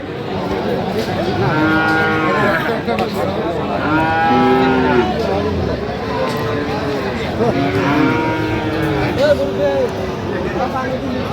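Friesian cross bull calves at a busy cattle market give repeated long, loud moos in a steady series, with a babble of people in the background.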